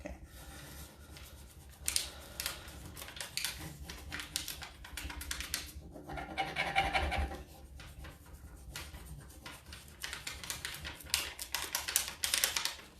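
A large furniture transfer is rubbed onto a surface with a steady scratchy, tapping friction that continues in bursts throughout, close and fairly quiet, with no speech.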